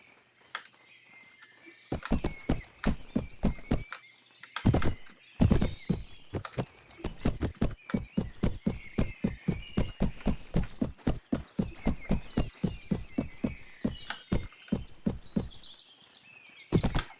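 Horse hooves clip-clopping in a Lord of the Rings video game, a steady rhythmic stream of sharp close hoof strikes on hard ground for most of the stretch, with faint ambient chirps and little talk.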